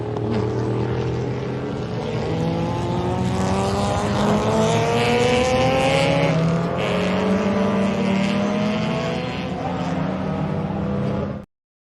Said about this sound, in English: You can almost smell those cars, can't you? What a reassuring sound.